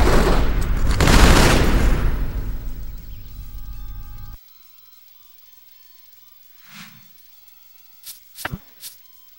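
Dense burst of video game gunfire from a free-for-all match, loud rapid shots for about four seconds that cut off abruptly, followed by a few faint scattered sounds.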